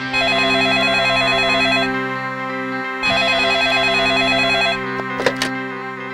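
A telephone rings in two long electronic bursts with a pause between, loud and close, followed by a couple of sharp clicks as the call connects.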